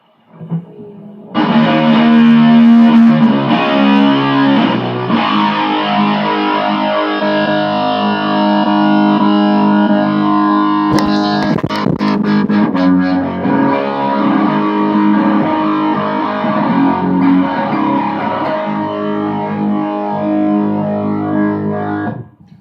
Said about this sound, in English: That's your really classic 70s arena rock sound there.